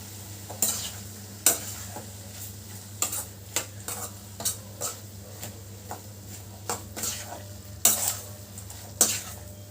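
A spoon stirs a vegetable gravy for a weight-loss chapati dinner in a pan, with about a dozen sharp scraping strokes spaced unevenly over a steady low sizzle, close and moderately loud with no talk.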